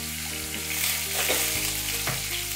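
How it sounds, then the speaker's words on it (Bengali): Pointed gourd (potol) pieces seasoned with a little salt and turmeric fry in a pan with a loud, continuous close sizzle and crackle, and no one speaks. "খুব সামান্য নুন আর হলুদ দিয়ে পটলগুলোকে আমি একটু ভেজে নিচ্ছি"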